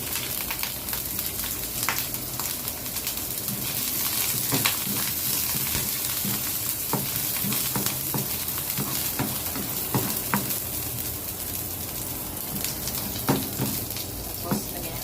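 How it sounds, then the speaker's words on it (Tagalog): Garlic, onion and ginger sautéing in a pan give a steady, close sizzle, with scattered clinks and scrapes of stirring throughout. "Igisa natin ang ating bawang, sibuyas, at saka luya."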